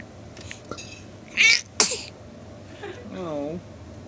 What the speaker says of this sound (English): She starts sneezing as soon as you turn the camera on.